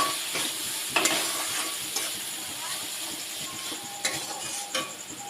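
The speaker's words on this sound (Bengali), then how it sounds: "সব উপকরণ ভালো করে কষিয়ে নিতে হবে।" Chili, dried chili powder, salt, turmeric and coriander powder fry in a pan, a continuous loud sizzle and hiss broken by scraping stirs and occasional sharp crackles, with no talking.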